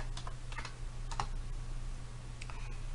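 Fingers tap out an SQL query on a computer keyboard in short irregular bursts of close, light key clicks over a low steady hum, with no voices.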